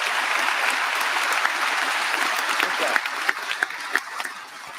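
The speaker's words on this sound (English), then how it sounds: "Ladies and gentlemen, please give the candidates a round of applause." A round of applause from the audience for the candidates at the UCP leadership debate, sustained clapping that swells slightly with a few louder individual claps near the end.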